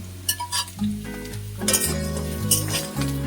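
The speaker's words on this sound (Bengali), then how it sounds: "সবকিছু একটু নাড়াচাড়া করে 2 মিনিট মতো ফ্রাই করে নেব।" Mixed vegetables with chopped capsicum are stir-fried in a hot pan, a steady sizzle broken by repeated scraping stirs, with a continuous musical backing underneath.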